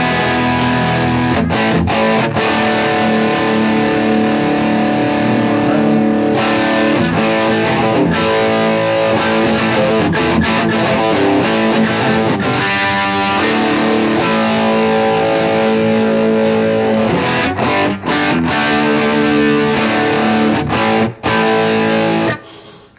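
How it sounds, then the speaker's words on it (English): Electric guitar driven through a DOD Overdrive Preamp pedal, loud and near, with long sustained overdriven chords and note runs playing almost without a break, no talking. "Now we'll switch over to the Overdrive Preamp."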